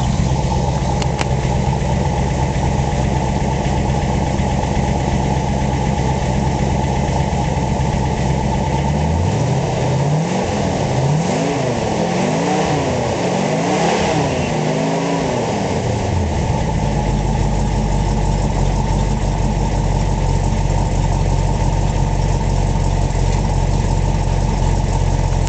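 A 1951 Chevrolet 3100 five-window pickup with a built 350 V8 and dual rear exhaust idles steadily the whole time, a close, soft, even rumble with no one talking.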